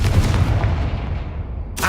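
A Confringo fire spell explodes in Hogwarts Legacy with a loud, deep blast that rumbles and fades over about two seconds, followed by a sharp new burst at the end.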